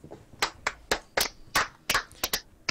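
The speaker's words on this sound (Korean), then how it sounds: "다들 박수." About a dozen separate hand claps ring out close by, irregularly spaced and sharp, from a few people clapping in a quiet room with no talking.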